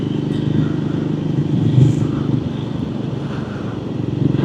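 A Triumph Scrambler 400X motorcycle engine drones steadily while riding, with a low buzzing hum, some wind rush and faint clatter throughout at a constant level.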